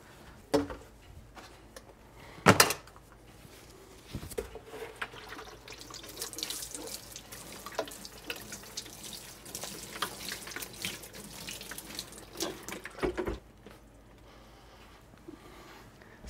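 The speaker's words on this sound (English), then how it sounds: "we're just gonna sprinkle it with water, with my watering can" Water from a watering can sprinkles onto soil in seed-starting cups in a kitchen, a steady close trickle and patter that comes and goes over about ten seconds, with a few sharp knocks and no talking.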